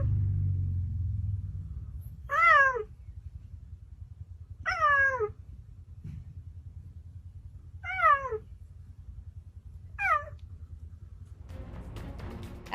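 A cheetah gives four separate meow-like calls, each a short wavering cat-like cry spaced a couple of seconds apart, heard over a low engine rumble.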